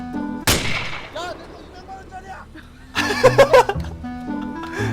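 Arma 3 gunfire: a sharp shot near the start and a quick burst of several shots later, with players talking and laughing around them.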